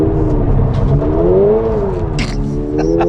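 A Toyota GR86 with a manual gearbox revs steadily, its engine note rising and falling through a smooth sweep before dropping back, loud and close with a faint hiss behind.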